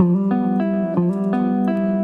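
A sustained keyboard lead imitating a guitar solo, with notes that slide and bend between pitches using pitch bend, played in short phrases with no voices.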